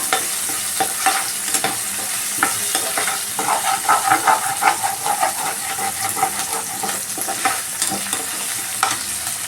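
Green chillies fry in a pan while being stirred, a steady sizzling hiss broken by repeated spoon scrapes and clicks, close and busy, no voices.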